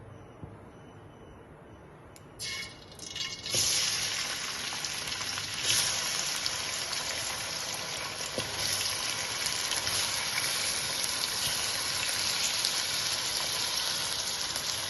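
Chopped tomatoes drop into hot sesame oil for tomato thokku, setting off a sudden hiss that settles into a steady, fairly close sizzle that carries on without a break.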